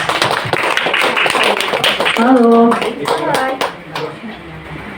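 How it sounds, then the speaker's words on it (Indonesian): A roomful of people applauding at a gathering, a quick burst of hand claps and taps that thins out toward the end, with voices talking over the clapping. "Tepuk tangan dulu Bapak Ibu"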